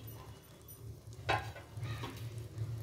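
Cooked mutton biryani is stirred lightly in its pot: two soft scrapes of a spoon against metal over a faint steady sizzle and low hum.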